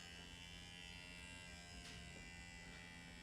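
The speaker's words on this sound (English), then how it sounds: "I'm going to use my vacuum sealer. What this little device does is it just sucks all of the air out of the jar" A small vacuum sealer hums and buzzes steadily as it pulls air out of a jar of cayenne pepper powder, a faint, even motor drone with no voices.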